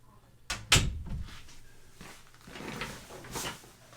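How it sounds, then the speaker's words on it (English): A door opening and closing to let a cat outside in a home, with a sharp knock and latch clatter near the start, then softer shuffling and rustling handling sounds that continue to the end. "He needs to get out the door, so let me let him out."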